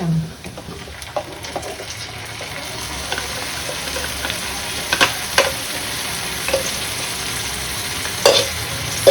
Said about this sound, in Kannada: so let this fry nicely, ಹಸಿ ವಾಸನೆ ಹೋಗೋವರೆಗೂ